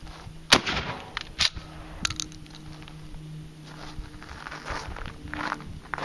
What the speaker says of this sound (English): That was another buckshot waxer.